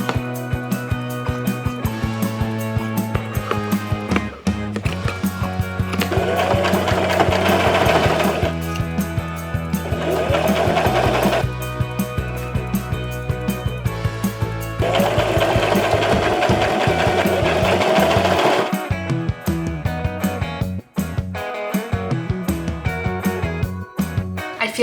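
A sewing machine stitches a thrifted top, its motor humming with a steady rapid needle clatter that runs in long bursts, pausing and restarting several times, loud and close.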